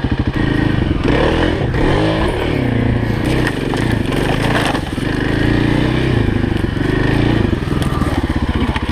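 A Kawasaki KLX 351 dirt bike tears through a fast hot lap, its engine snarling and revving up and down continuously and loudly up close, with clattering mechanical noise.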